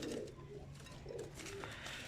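Nawab pigeons kept in a rooftop loft coo softly in a few low, rolling calls spaced across a quiet background.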